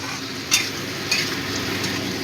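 Tomatoes frying in a pan for onion-tomato masoor dal, stirred with a spoon over a constant sizzle, with two sharp scraping clinks standing out, close and fairly loud, without any voice.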